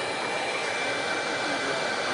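A heat gun blowing hot air onto conductive epoxy on an electric motor's end bracket, a loud, steady, close rushing whoosh with no variation and no talk.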